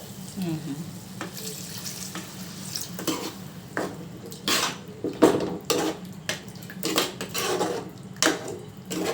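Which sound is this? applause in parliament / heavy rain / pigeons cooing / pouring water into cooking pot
pouring water into cooking pot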